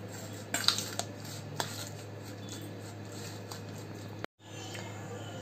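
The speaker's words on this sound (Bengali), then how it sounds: "এখন কিছু সরিষার তেল দিয়ে আমি মাছগুলোকে ভালোভাবে মাখিয়ে নেব।" Fish being mixed by hand with spice paste and mustard oil in a metal bowl, giving light clinks and wet rubbing taps at the start that settle into quiet mixing over a steady hum.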